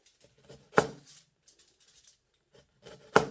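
A knife slices through an onion at the root end on a board, two crisp cuts about two seconds apart, each with a short scrape, with quiet rustling in between.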